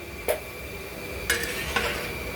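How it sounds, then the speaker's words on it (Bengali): Large batch of fried rice stirred in a big pot for a catered event, with a few sharp metallic scrapes and clinks spaced over a steady low background hiss. "ভালো করে মেশান ফ্রাইড রাইসটা মেশান"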